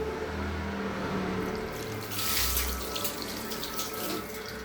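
Steady stream of water poured continuously over a deity during a temple abhishekam ritual, a close, constant splashing rush with a brief swell in the middle and a low background hum.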